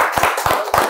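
Close hand clapping in a podcast studio, three or four sharp, loud claps in a quick uneven rhythm over about a second.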